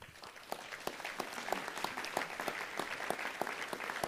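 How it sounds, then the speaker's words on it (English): An audience gives a round of applause at a city council meeting, a steady patter of many hands clapping, moderately loud and sustained from start to finish. "So please join me in giving them a warm round of applause."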